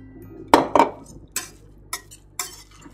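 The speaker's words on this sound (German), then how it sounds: "Jetzt mischen wir die Sahne drunter." A utensil stirs cream into a mixture in a pan of venison medallions with shallots, giving a few sharp metallic scrapes and knocks against the pan in short bursts, close and clear with no talk.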